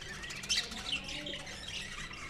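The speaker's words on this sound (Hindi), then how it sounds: "चिड़ियों के घोंसले हैं अंदर, और उनके चहचहाने की आवाज़, मधुर आवाज़ सुन सकते हैं।" Small birds chirp and squawk from nests inside a temple, bright busy calls repeating steadily over about two seconds with one louder burst early on, set against a faint room hum.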